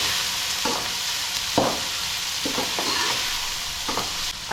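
Onions and whole garam masala frying in about half a cup of oil for rice, a constant close sizzle broken by several sharp scraping stirs of a spoon against the pan.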